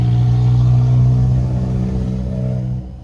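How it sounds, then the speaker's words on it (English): A car engine revs and rumbles loudly with a steady low drone, fading slightly toward the end, heard alone with no talking. "If your car's making that sound, take it to the mechanic."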